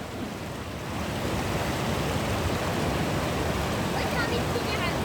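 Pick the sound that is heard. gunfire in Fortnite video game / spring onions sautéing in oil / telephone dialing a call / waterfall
waterfall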